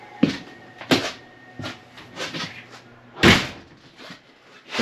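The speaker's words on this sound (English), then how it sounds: "I'm gonna close the door." The door of a 2022 Grey Wolf 16BF fish house is worked, giving a series of sharp thuds and knocks spaced irregularly, close by, with nobody speaking.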